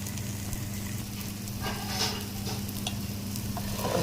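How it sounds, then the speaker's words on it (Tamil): Ginger garlic paste frying in oil in a pan and being stirred, a dense continuous close sizzle with soft scraping, with no talk. "சேர்த்து நல்லா கிண்டி எண்ணெய் வர வரைக்கும் கொஞ்சம் வேக விடுங்க."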